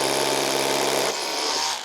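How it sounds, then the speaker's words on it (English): A power drill whirs loudly at high speed, boring into pre-drilled holes while mounting plastic house shutters, then its pitch drops and it winds down near the end of the short burst. "drill into the pre-drilled holes that we did"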